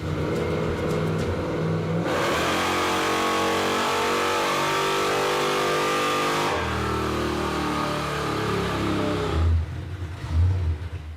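A Crusher Impala engine roars at wide open throttle on a dyno, loud and sustained with shifting pitch, dropping briefly mid-run before surging again, then settling into rougher idle pulses at the end, with no talk.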